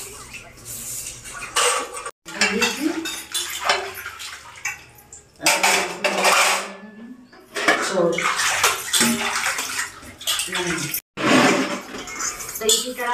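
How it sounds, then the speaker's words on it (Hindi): Dishes, pots and utensils are washed in a home kitchen with running, splashing water and clinking metal, heard continuously under steady talk. "तो दोस्तों यहाँ पर बर्तन धुल रहे हैं"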